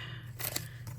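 Two quick snips of scissors cutting washi tape, close and crisp, with a softer third cut near the end over a low steady hum.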